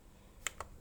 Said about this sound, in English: I'm just typing 50